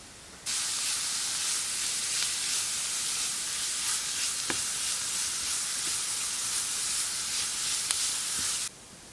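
Carrots frying with onions in a pan for cabbage pie filling, a steady bright hissing sizzle that starts abruptly and runs evenly before cutting off.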